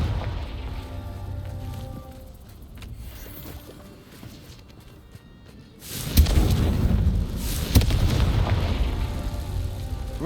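A Confringo blasting spell in Hogwarts Legacy sets off a sudden loud boom partway through, leaving a broad rumbling blast that rolls on to the end, with a second sharp crack near the close.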